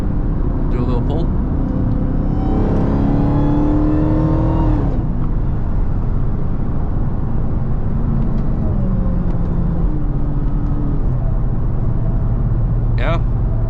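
A Dodge Hellcat Charger pulls briefly on the highway, its engine note rising steadily in a loud, continuous surge amid constant road and cabin noise, with people talking inside the car.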